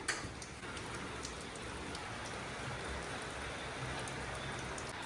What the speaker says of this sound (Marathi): हे बघा पाऊस असं कंटिन्यू चालू आहे